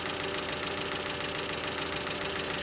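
A car engine runs steadily at raised revs with a constant mechanical drone and a knocking, buzzing quality, loud and close, with no voices over it.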